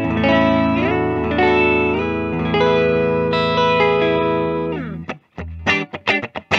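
Middle pickup position on a 1994 Gibson LP Studio electric guitar in ebony, rich sustained chords ringing loud and full through effects with reverb and chorus, then a few sharp picked notes and short staccato stabs at the end.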